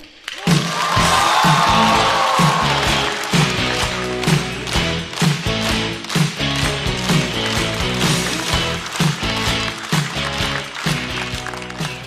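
A stand-up comedy show audience greets a comedian with loud, sustained applause and cheering, a dense crowd roar with a rhythmic beat of music behind it that carries on for several seconds.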